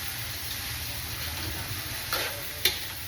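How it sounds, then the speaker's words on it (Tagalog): Garlic and onion sauté in hot oil with a steady close sizzle, broken near the end by a brief stirring scrape and a sharp clink of a utensil against the pan, with nobody talking. "Gigisan muna po natin sa bawang at sibuyas."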